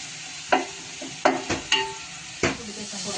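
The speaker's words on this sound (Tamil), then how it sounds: "அதோட பச்சை வாசனை போற வரைக்கும் நல்லா வதக்கணும்" Ingredients sautéing in a pan for peas pulao under a steady background hiss, with about five distinct scraping strokes of a spatula against the pan spaced unevenly across the clip.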